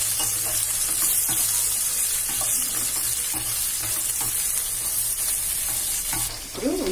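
Onions fry with ginger garlic paste in oil for a biryani, a steady, loud, close sizzle with light stirring scrapes throughout and a brief change near the end, without speech.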